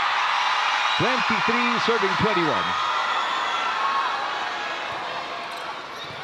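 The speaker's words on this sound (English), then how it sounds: "Eliza Valdez to serve, getting the crowd roaring again" A dense, loud crowd roars continuously through a PVL All-Filipino semi-final volleyball match between Creamline and Farm Fresh, while a commentator talks briefly over the din.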